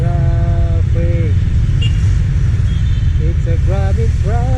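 Road traffic rumbles loud and close while riding a Sniper 150 motorcycle, a steady low engine drone with vehicles around, as people talk over it.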